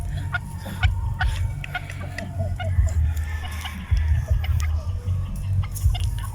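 Rhode Island Red chickens cluck in short, scattered bursts nearby at moderate volume, with occasional louder calls over a steady low background rumble.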